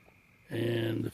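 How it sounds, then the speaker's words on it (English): Frogs croak at night on a farm, a steady dense chorus of overlapping tonal calls that starts abruptly halfway through and holds fairly loud to the end. "y'all can hear the frogs singing here."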